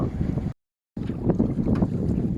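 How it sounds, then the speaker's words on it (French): Light wind buffets the microphone at sea aboard a sailboat with no swell, a steady low roar that cuts out briefly before returning with faint water and rigging sounds. "Il y a un peu de vent, pas de houle."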